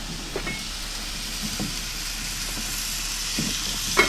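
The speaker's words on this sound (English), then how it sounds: "Bit of meat and veg." Meat and vegetables frying in a pan over an outdoor campfire at dusk, giving a steady low sizzle with soft crackles and occasional louder pops, fairly close and without talk.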